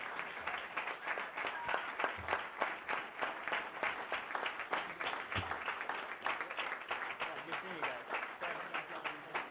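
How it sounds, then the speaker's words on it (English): Audience at a city council meeting applauds veterans as they come forward, a steady patter of clapping heard from a distance and fairly faint, continuing throughout. "Let's give them a round of applause."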